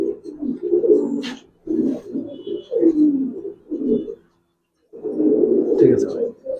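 Giribaz pigeons, including silver-colored birds, give low, soft cooing calls in short repeated bursts. The calls sound close by, with brief pauses between them. No one speaks over them.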